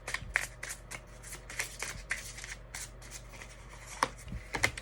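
Tarot cards being shuffled and drawn during a reading, a steady run of soft riffling flicks and papery slaps, close and fairly quiet, with a few sharper card snaps near the end.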